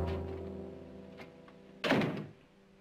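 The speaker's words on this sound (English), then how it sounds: "Maria, close the door" A door is shut in a 1960s Western drama, a single solid thunk near the end that stands out clearly over a quiet room with a faint hum.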